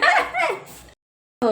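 A puppy gives a few high, yappy barks and whimpery yips up close, then falls silent before one more short burst.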